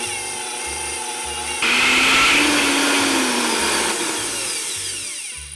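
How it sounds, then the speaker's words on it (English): A kitchen blender whirs as it purees avocado pudding, a loud steady motor whine that surges louder partway through and then eases back, with a rhythmic low thumping beneath. "now we're gonna stick this into the blender and blend it up"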